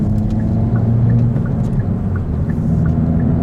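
A steady, deep exhaust rumble from a Hyundai Avante N (Elantra N) drones continuously at a constant level, low and throaty, with no voices over it.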